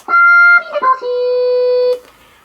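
A stylophone-type synth on a Yamaha DJX keyboard sings a few short pitched notes, then holds one long note, sounding like a robotic singing voice.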